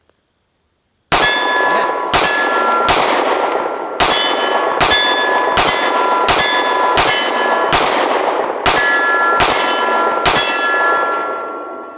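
A Sig P365X pistol fires cheap Russian steel-case 9mm at an outdoor range, about ten loud, sharp shots with ringing clangs from steel targets, spaced irregularly through a full magazine, beginning after a brief silence.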